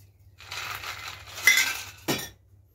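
Lemonade poured into a cocktail glass holding a blue vodka and tequila mix: a steady fizzing splash with light glassy clinks, ending in a brief louder clink near the end, all close up with no talk.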